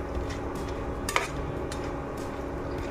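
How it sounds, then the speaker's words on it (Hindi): Crispy fried sev is lifted from a pan of hot oil with metal clinks and light rattling scrapes, faint and close, over a low steady background hiss. "आप लोग आवाज़ सुन रहे हैं, कितनी क्रिस्प और क्रंची आवाज़ आ रही है इसकी।"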